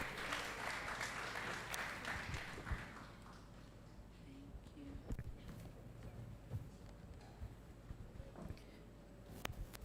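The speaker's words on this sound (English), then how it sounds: "Another round of applause for Junior 6, ladies and gentlemen." Applause at a school graduation ceremony, loud at first and then fading into scattered claps and faint room noise.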